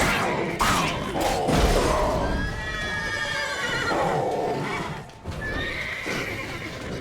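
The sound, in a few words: horses neighing in The Witcher 3 video game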